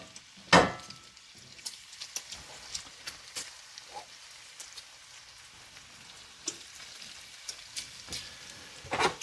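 Bacon frying in a newly seasoned skillet gives a quiet bed of sizzle with scattered crackles and pops, including one sharp pop near the start and another at the end.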